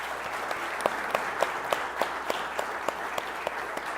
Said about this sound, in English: Let's all give a nice round of applause to these young ladies for their achievements this season.